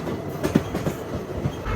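The Nagarsol Superfast Express (12787) rolls slowly over the rails, giving a steady close rumble with a few light wheel clicks throughout.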